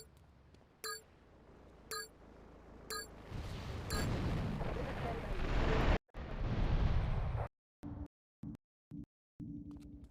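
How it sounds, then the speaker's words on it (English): An explosion in Grand Theft Auto III: after a few short beeps, a loud rumbling blast swells and roars for several seconds, then cuts out abruptly, leaving brief choppy bursts of noise. "It's going to explode again."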